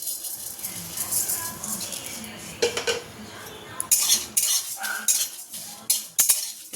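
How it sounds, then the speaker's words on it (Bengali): Whole cumin seeds go into a pan of fried chillies and are stirred, giving repeated metallic scrapes and rattles of a spoon against the pan, loud and close, with no talking. "লঙ্কাটা তো ভাজা হয়ে গেছে, এর মধ্যেই দিয়ে দেবো গোটা জিরে"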